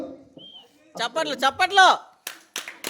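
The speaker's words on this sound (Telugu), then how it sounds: "ఒకసారి గట్టిగా టప్పట్లు" A group breaks into loud applause for a prize winner at a muggu (rangoli) competition: a few sharp, ragged claps ring out just after an excited voice finishes speaking.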